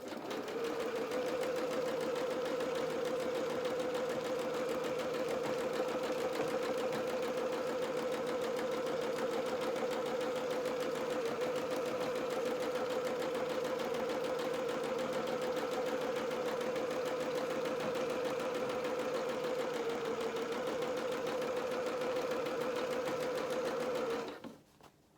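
A sewing machine stitches across doll bloomers in one steady, close, mechanical whirr that runs for about 24 seconds, then stops abruptly.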